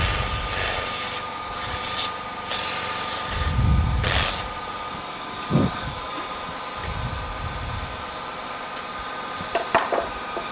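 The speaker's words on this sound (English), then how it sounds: "You got to be careful when you're sanding this that you don't clip your fingers." Hand-sanding a wooden workpiece in a woodworking shop, with broadband rubbing strokes early on, then scattered soft scrapes and light knocks fading to quiet room tone.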